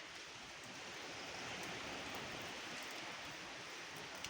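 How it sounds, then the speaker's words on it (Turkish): Light rain falling over a park with outdoor tea tables, a soft, steady wash of hiss that stays faint and even throughout, with no talking. "Öyle güzel yağmur yağıyor ki arkadaşlar."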